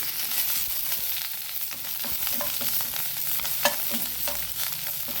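Curry leaves tempering in hot oil for Mangalorean-style sambar give a loud, continuous crackling sizzle close by, with a few sharper pops and no speech.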